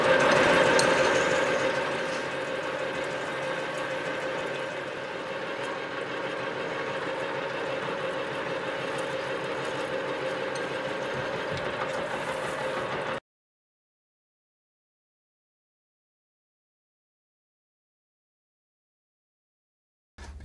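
A metal lathe drills into stainless steel, giving a steady mechanical whir and hum with faint chattering for about thirteen seconds before cutting off to silence; no one speaks.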